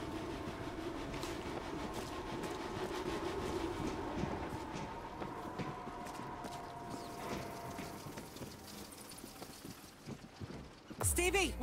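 Train rumbling through a tunnel in the video game World War Z Aftermath, New York level, a low sustained mechanical roar with a faint tonal hum, moderately distant, ending in a louder burst.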